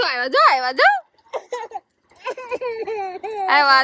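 A little girl cries close by in loud wailing bursts with rising and falling pitch, breaking into short sobbing gasps and brief pauses before a final strong wail.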